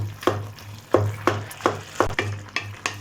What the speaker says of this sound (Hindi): चम्मच की मदद से इसको मैश कर लेना सारे टमाटर को